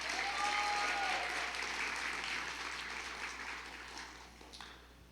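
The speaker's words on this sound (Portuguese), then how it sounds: "Dê um aplauso ao Senhor pela sua palavra." A congregation claps together at a Purim service, a dense wash of applause that starts full and gradually thins and fades over several seconds, with no voices over it.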